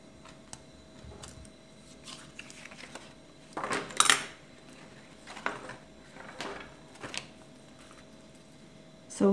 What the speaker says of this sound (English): And then copy this line with the knife